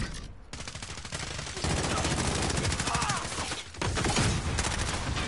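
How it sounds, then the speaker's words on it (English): Rapid SMG fire in Call of Duty: Modern Warfare, long dense bursts of automatic shots, loud and close, with short pauses between strings of fire. "I'm gonna have to use my freaking SMG."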